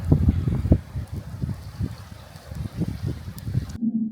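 Wind gusts and buffets the microphone in rumbling, uneven bursts at an outdoor cooking spot where onion pakoda and masala chai are being made by an open stove.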